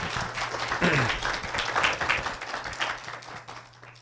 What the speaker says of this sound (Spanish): Silvino Vergara Nava, para quien pido un cálido aplauso